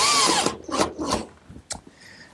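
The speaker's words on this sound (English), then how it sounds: "so I'll just fasten a screw to the center of the post" A power drill drives a screw into the center of a wooden pencil-post bed post, giving several short whirring bursts close by, each rising and stopping, with a brief final spin near the end.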